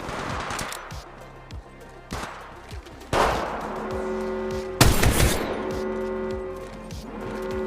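Bursts of gunfire from an attacking squad in the video game Apex Legends, several loud volleys and sharp shots spread across the stretch, with a steady game background hum between them.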